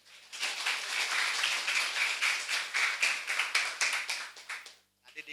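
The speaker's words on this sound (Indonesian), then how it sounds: "Nah, tepuk tangan dulu, tepuk tangan dulu." Audience clapping together at a community learning session, with Babinsa soldiers present, as a steady burst of applause that holds for about four seconds, thins out and stops, followed by a brief second spatter of claps.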